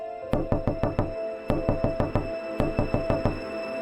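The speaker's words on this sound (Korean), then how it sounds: "그리고 다시 노크가 시작됩니다." Knocks on a door come in quick, insistent clusters of three to five sharp raps. Brief pauses separate each group, and the knocking is close, loud and alone with no voices.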